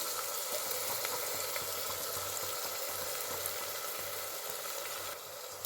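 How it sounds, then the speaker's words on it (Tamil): Onions and a ground paste sautéing in hot oil for Vallarai rice, a steady close sizzle and crackle running unbroken throughout with no voices. "இப்போ அந்த அரைச்ச பேஸ்ட்டை போட்டுக்கணும். இது நல்லா எண்ணெய் பிரிகிற வரைக்கும் நல்லா வதக்கிடணும்."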